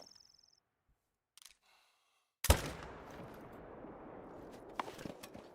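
A single sharp gunshot from a 7mm single-shot rifle in the hunting video game theHunter: Call of the Wild cracks out after near silence, followed by a long rolling echo and faint clicks.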